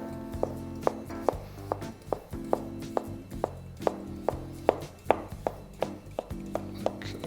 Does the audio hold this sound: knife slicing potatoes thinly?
yes